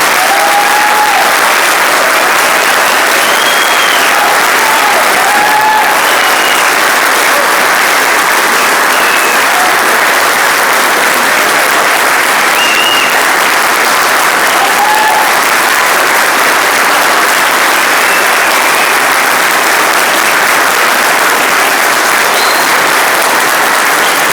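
Sustained applause from a comic convention audience during a talk with Juan Giménez at Crack Bang Boom 2015, a dense steady clapping that fills the room for over twenty seconds with a few faint whoops and calls above it.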